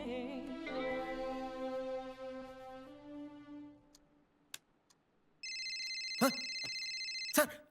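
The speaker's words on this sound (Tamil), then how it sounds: "சார், அவதான் சார் ஃபோனு." A telephone rings with an incoming call, a steady electronic ring that starts partway through as earlier music fades away, with a couple of sharp clicks over it.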